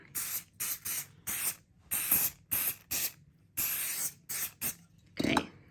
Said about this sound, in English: So I'm going to spray this side as well.